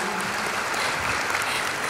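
An audience at a talk by Deddy Corbuzier claps in a dense, steady burst of applause that fills the short moment with no voices over it.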